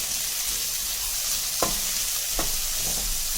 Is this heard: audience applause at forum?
no